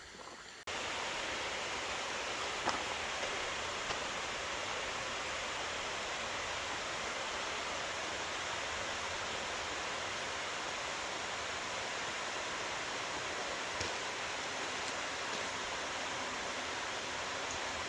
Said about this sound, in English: Oh wow, there is a waterfall.